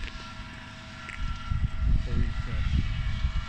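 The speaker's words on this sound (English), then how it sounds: "The tractor's there making a bit of noise." A tractor engine works on farmland in Kent, a steady low rumble from some distance that swells slightly midway, mixed with outdoor wind noise.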